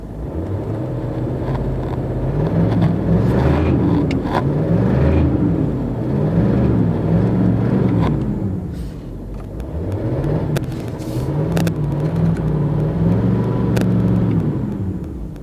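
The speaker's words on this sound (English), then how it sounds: "there's more power now in the revs than there was" A Range Rover engine with an intermittent fault revs repeatedly, its rumbling tone rising and falling in slow cycles, loud and close, with no talk.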